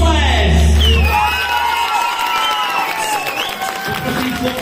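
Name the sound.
audience applause and cheering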